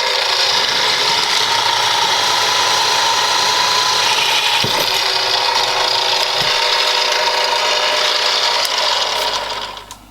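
A loud, steady whirring grind of a 1940s Progress drill with a countersink bit cutting during knife making, continuous for several seconds with a brief knock midway, then winding down.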